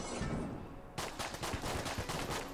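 Sniper fire in the top-down shooter game Enter the Gungeon: after a quiet start, a dense run of sharp, loud shots crackles in rapid, uneven bursts, with no talking.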